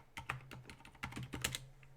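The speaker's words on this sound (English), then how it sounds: "you guys can't see me screwing up my typing here" Fast, uneven clatter of keys on a computer keyboard, close and fairly quiet, with a steady low hum underneath.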